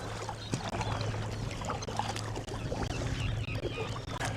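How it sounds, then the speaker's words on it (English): Paddle strokes on water from a paddle board moving against a river current, a steady low splashing and churning close by with a faint hum underneath, no voices. "And we're just paddling. Paddling the paddle."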